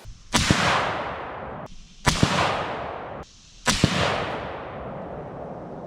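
Three loud, sharp gunshots ring out one after another at roughly two-second intervals, each close crack followed by a long rolling echo that decays before the next round.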